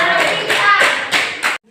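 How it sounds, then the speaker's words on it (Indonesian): Grade 4 classroom clapping for a student during a Catholic religion lesson, a short burst of hand claps in several swells with children's voices mixed in, stopping abruptly. "Ayo kita tepuk tangan untuk"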